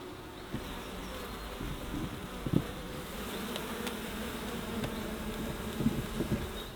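A swarm of bees buzzes steadily around a hive fitted with a board that has small holes for worker bees, a dense, continuous drone close by with occasional louder passes of individual insects.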